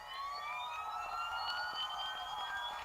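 An alarm siren from the video game Injustice: Gods Among Us holds a steady, high, rising electronic wail with layered harmonics, continuous and fairly quiet throughout.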